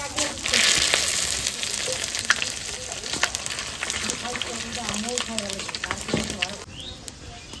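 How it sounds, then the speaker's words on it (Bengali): Panch phoron, dried chili and bay leaf hit hot oil in a home kitchen with a loud, steady sizzle and crackle that fades slightly while it keeps frying. Voices talk over it, and there is some stirring. "তেল গরম হয়ে গেছে, এবার পাঁচফোড়ন, শুকনো লঙ্কা, তেজপাতা দিয়ে দেবো।"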